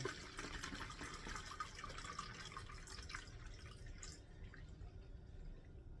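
Distilled water poured into a container for a DIY recipe, a continuous soft splashing and trickling stream close by that thins out toward the end, fairly quiet.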